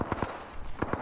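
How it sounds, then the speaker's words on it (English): Gunfire in the video game Apex Legends, a few sharp shots in quick pairs, moderately loud against a busy game background with no talk. "Shots from the left?"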